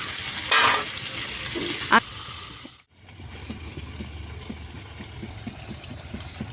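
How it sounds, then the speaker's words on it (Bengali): Potatoes being sautéed with liver and stomach in a pan make a close, steady sizzle, with spoon-scraping stirs early on, a brief pause, then continued frying hiss. "আলুগুলোকে দিয়ে দিলাম। এবার আলুগুলো দিয়েও কষবো ভালো করে।"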